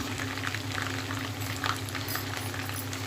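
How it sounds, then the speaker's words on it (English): Chopped country and apple tomatoes fry in an onion masala for chicken curry, a steady close bubbling sizzle with soft wet crackles and occasional stirring throughout. "Add 1 country tomato chopped and 1 apple tomato pieces and fry it well."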